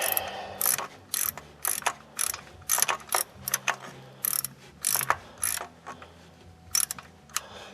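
A ratchet clicks rapidly in uneven bursts while loosening the timing chain tensioner bolts on an engine, close and clear, with brief pauses between the runs of clicks.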